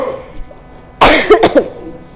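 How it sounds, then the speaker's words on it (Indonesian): A single harsh cough bursts out close by after a quiet stretch, breaking into a few rough, rasping pulses before fading. "Ya ini Bu lumayan batuk ya."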